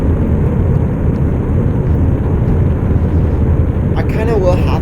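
A rocket engine in a spaceflight video game about a Mars landing and return roars as a loud, steady broadband rumble throughout, with brief chirping tones near the end.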